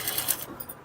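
A sewing machine runs a full long stitch along the fall of a saree, a short quick burst of rapid mechanical clatter, close and fairly quiet, with no one talking.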